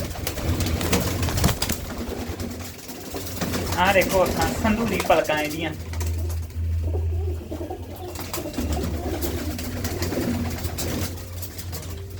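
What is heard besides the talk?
pigeons cooing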